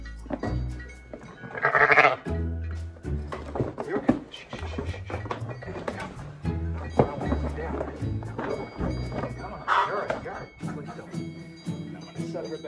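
Homestead sheep and goats bleat repeatedly during hoof trimming, close by, mixed with people talking and shuffling hooves.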